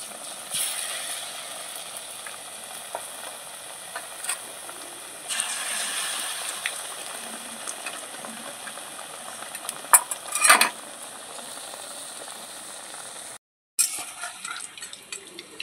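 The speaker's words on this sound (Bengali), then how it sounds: "এখন বেসনের বড়াটা ভেজে নেব।" Besan fritters fry in well-heated white oil in a wok, a soft continuous sizzle broken by occasional clinks and scrapes of a utensil stirring, with a brief silent gap near the end.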